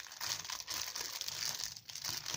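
A small gift sachet tied with a ribbon is handled up close, its packaging giving off continuous crisp crinkling and rustling in uneven bursts with a short lull, with no voices.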